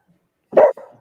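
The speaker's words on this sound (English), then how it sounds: "Sorry, Leia's barking" A dog gives a single close, loud bark that ends in a softer, trailing yip, with silence before it.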